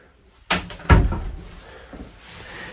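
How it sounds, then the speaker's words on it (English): A door swings shut with a firm thud inside a dark, quiet room of the old Shanley Hotel, followed by faint rattling and settling noises, close by, with no one talking. "You close the door."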